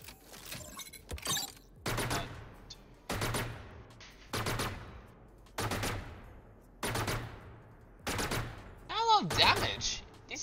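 Killjoy's deployed turret in Valorant fires repeated bursts at practice bots, about seven sharp evenly spaced volleys, loud and close with no talk.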